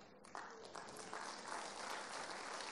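Crowd applause from a church congregation during an Indonesian sermon, starting suddenly and swelling into sustained, fairly distant clapping that carries on steadily to the end.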